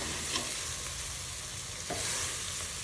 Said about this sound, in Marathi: आता याच्यामध्ये शेपूची भाजी टाकायची आणि परतून घ्यायचं भाजीला पण।